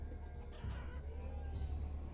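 Chickens cluck in the village-building game Banished, soft and steady over a low game ambience hum, with no talk.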